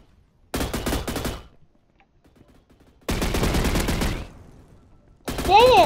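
Video game gunfire in a game with Glock pistols, loud rapid automatic bursts, one short and one longer with a ringing tail, then another burst with a zinging effect at the end.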